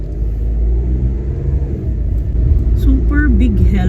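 A car drives along with a steady low engine rumble and road noise that swells slightly as it accelerates, with a voice speaking over it toward the end.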